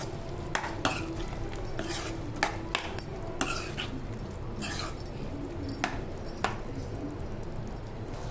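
A pot of curry being stirred on the stove, with repeated metallic scrapes and clinks of a spoon against the pan at an uneven rhythm over a steady low background hiss, close and moderately loud.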